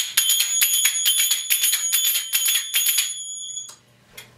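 Metal finger cymbals, or zills, ring out in a quick belly dance rhythm at full speed, with bright clustered strikes repeating steadily for three seconds before a sustained ring fades, close and alone.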